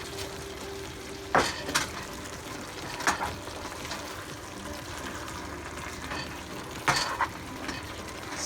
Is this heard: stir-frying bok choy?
yes